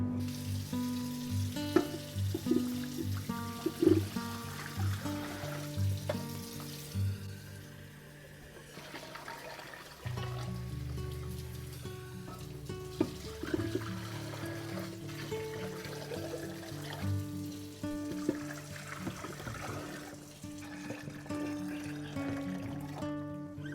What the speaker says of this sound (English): So now I need to get 2 quarts of hot water into each canner.